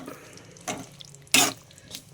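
Fried meat pieces stirred into a boiling vinegar mix with chili powder, ginger, garlic and green chilies make a few short, sharp sizzling bursts of hissing between quieter bubbling gaps.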